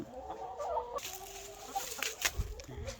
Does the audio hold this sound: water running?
no